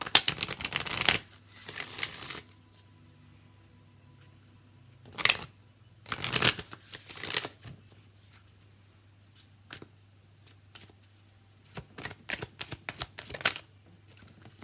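Enchanted Map Oracle card deck being shuffled close by in loud riffling bursts, separated by quiet gaps and a low steady hum, with brief card flicks toward the end.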